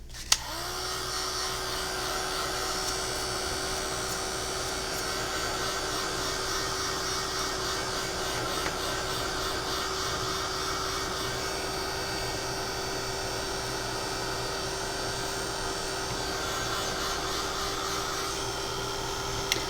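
A hair dryer or heat tool blows steadily to dry glitter on a colouring page, a continuous close whirring hum with an even tone that holds from start to finish.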